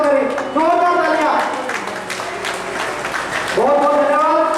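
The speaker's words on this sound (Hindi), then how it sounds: "जोरदार तालियां।" An audience claps to welcome the chief guests at a Ramlila staged by the Shri Ramayan Pathak Sabha, a broad crowd clatter lying under a loud, amplified voice that talks over it almost the whole time.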